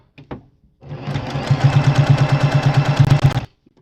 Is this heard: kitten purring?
no